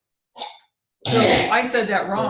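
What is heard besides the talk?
sneeze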